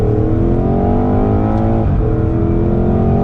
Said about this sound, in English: listen to these upshifts.